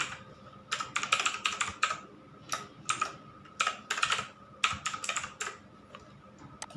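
Quick bursts of keystrokes on a computer keyboard as an email address is entered on a website sign-up page, clustered in uneven runs with brief pauses, close and clear with no talking.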